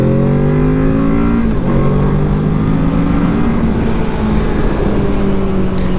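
A 2021 Kawasaki Z650 motorcycle engine revving loudly while riding, close and continuous, its pitch rising through the gears with brief dips at shifts.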